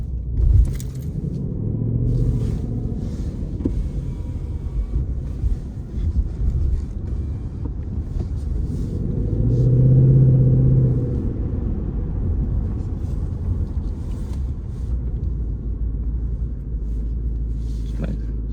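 A Ford Mustang GT rumbles with a low, steady engine drone while driving, swelling briefly louder midway, with road and wind noise underneath.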